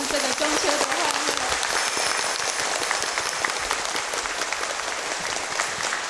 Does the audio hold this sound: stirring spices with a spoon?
no